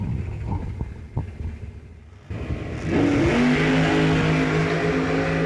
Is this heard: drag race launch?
yes